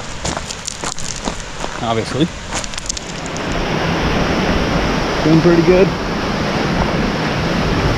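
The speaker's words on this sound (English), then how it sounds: "Here's the river crossing" A river rushes at a trail crossing on a hike to Rainbow Falls and Beaver Meadow Falls, a broad steady wash of water that swells as someone speaks briefly over it at the start.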